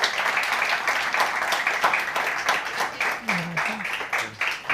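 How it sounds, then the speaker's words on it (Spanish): Applause at a medical conference, a steady wash of hand clapping from a seated audience with a few voices and cheers rising over it near the end. "Y le pedimos un fuerte aplauso."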